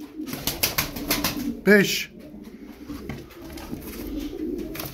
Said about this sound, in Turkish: Arkadaşımın kuşları arkadaşlar, kümes kuşları. Hepsi uçar oynar.